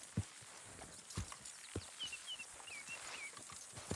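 Horse hooves clip-clop at a slow walk in Red Dead Redemption 2, several distinct thuds spaced about half a second apart over a steady outdoor bed, with faint bird chirps in the background.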